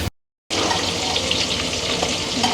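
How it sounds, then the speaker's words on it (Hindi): Fish frying in hot oil gives a steady, loud, close sizzle that carries on evenly without a break after a short silence at the start. "यहाँ पे हो रही है मछली फ्राई"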